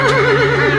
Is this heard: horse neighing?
yes